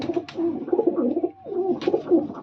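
Racing pigeons coo in a loft, close and clear, a continuous low throaty burbling that dips briefly in the middle before resuming, with no voices.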